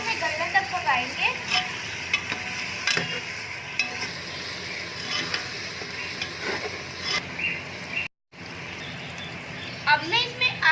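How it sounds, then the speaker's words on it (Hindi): Chopped tomatoes sizzle in fried masala in a pan, a steady close frying hiss with intermittent stirring scrapes, and someone talks over it throughout. "अब मैं इसमें 3 कटे हुए टमाटर डाल दूंगी। टमाटरों को हम अच्छे तरीके से गलने तक पकाएंगे।"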